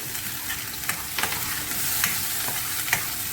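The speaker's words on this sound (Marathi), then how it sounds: "2 पळी तेल घालते आहे आणि हा पनीरचा मसाला तेल सुटेपर्यंत मी करत आहे." Paneer masala fries in oil with a constant crackling sizzle, and spaced scrapes and taps of a ladle sound as the mixture is stirred in the pan.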